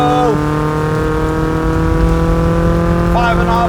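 A VW Golf Mk2 GTI's naturally aspirated engine roars at full throttle from inside the hot hatch, a loud, steady drone that holds high under load and shifts pitch near the start and end.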